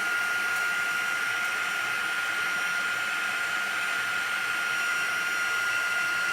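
A heat tool blows hot air over embossing powder on a rubber-stamped card, a constant loud whirring hiss with a steady high whine that stays unbroken throughout, no talking.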